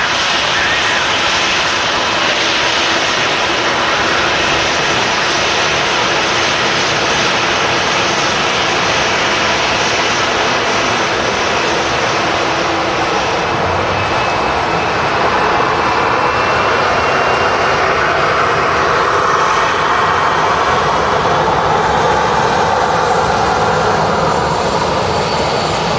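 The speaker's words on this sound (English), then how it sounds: "There's another Ryanair just arrived here at Manchester." A Ryanair airliner arrives at Manchester Airport with a loud, steady jet engine roar that fills the whole stretch, heard from close range outdoors with no break.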